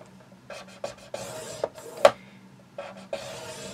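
Scoring tool drawn along a paper craft board at measured marks, a few short scraping strokes with one sharper snap-like stroke in the middle, close and fairly quiet with no talk.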